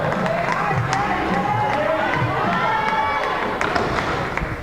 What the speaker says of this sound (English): There's a lot of support from her home crowd there for Tina Sesterzik.